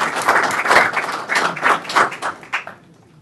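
A small crowd at a city council meeting claps and applauds for a few seconds, the clapping uneven and fading out toward the end into quiet.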